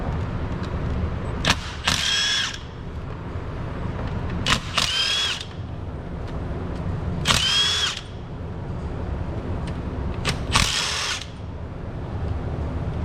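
A power tool spins out 10mm bolts from the top of a 5.7 HEMI cylinder head, four separate short whirring bursts, each a second or so long, close and loud over a steady background hum.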